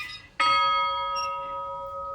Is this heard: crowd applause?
no